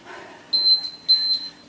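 A workout interval timer gives two short, clear electronic beeps, each about a quarter second long and evenly spaced, over a quiet background with no talk.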